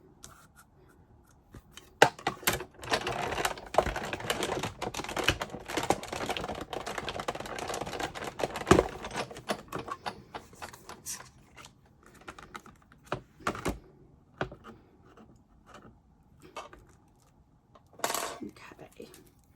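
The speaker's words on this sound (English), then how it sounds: "now we are going to use our detailed leaf die and cut 2 more" A die cutting machine runs a detailed leaf die for a sunflower card through its rollers, giving a close, steady crunching grind with scattered clicks and sharp taps that thin out into sparse handling noises.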